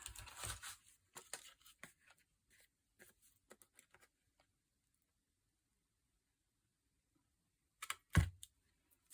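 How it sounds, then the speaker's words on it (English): Scissors snip the edges of a paper tag in short, sharp cuts. A burst of snips opens the clip, sparse clicks follow, then a long quiet gap and one more close, loud snip near the end. "I'm just going to snip the edges again"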